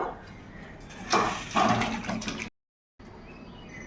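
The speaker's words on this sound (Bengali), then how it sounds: "তো এখন তরকারিটা একদম ঢেলে নেব।" Cooked chela fish curry with potatoes poured out of the pan, a wet sloshing and scraping pour that swells in two bursts, stops abruptly, and leaves a faint background hiss.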